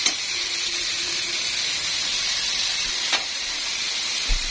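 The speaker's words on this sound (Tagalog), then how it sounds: "Ilalagay tayo ng toyo." Soy sauce hitting chicken breast frying in a hot pan gives a steady, bright sizzle and hiss that holds throughout, with a couple of faint clinks near the end.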